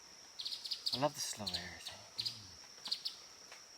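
Birds chirp and tweet outdoors on a summer water walk, repeated high bright calls scattered throughout, while someone talks close by.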